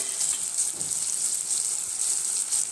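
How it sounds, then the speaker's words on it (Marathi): Tomatoes frying in hot oil in a pan make a steady close bright sizzle that runs unbroken throughout, with no voices. "टमाटे व्यवस्थित म्हणजे फ्राय होऊन गेले"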